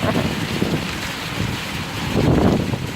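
A Queensland thunderstorm's rain sweeps closer outdoors, a dense broadband wash mixed with gusty wind buffeting the microphone, swelling louder toward the end.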